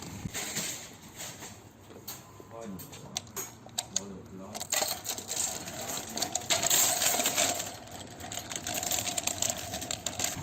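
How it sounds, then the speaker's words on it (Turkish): A supermarket shopping cart is pulled free and pushed off, giving close, irregular metallic clatters, rattles and wheel clicks that grow busier and louder toward the end. "şimdi bir araba alacağım. Alışveriş arabası."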